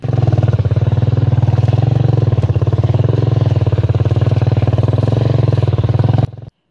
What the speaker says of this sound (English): then back on the bike to travel even further into the middle of absolute nowhere